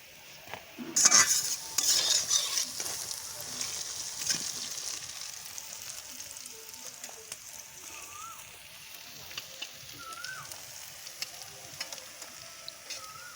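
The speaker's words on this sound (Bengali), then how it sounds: "দেখো ভাজাটা হয়ে গেছে আমি তুলে নিচ্ছি" Pointed gourd frying in a pan over a twin-burner clay stove, pieces being lifted out: metal utensil clatter near the start gives way to a soft, steady sizzle with scattered light scrapes.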